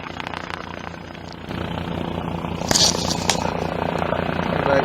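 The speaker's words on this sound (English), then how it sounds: "We've got a helicopter flying about up here now." A helicopter flies about and hovers overhead above a beach, its engine and rotor producing a steady, fairly faint distant drone that swells slightly louder partway through, with wind noise in the background.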